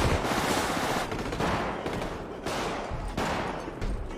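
Gunfire in the video game GTA V, rough bursts of rapid shots repeating in uneven waves, with brief dips between volleys.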